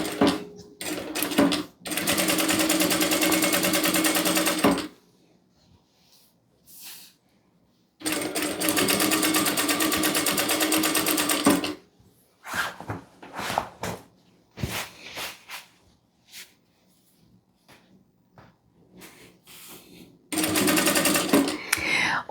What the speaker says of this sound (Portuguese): agora nós vamos iniciar a nossa costura